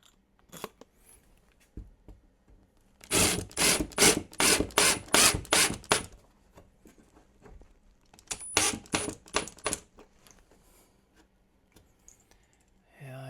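Giant Phillips screws being driven with a power driver, two loud bursts of rapid ratcheting clicks with a pause between them, close up, followed by faint handling noise.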